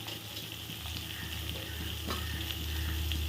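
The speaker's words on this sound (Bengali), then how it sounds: "পেঁপেটা ভেজে নেব" Papaya pieces frying lightly in a pan give a steady, close sizzle with faint stirring scrapes, and a low hum rises near the end.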